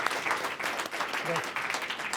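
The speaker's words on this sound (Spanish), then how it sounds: "hace falta un aplauso para los tres" A crowd applauds steadily, dense clapping filling the whole moment at a strong, even level.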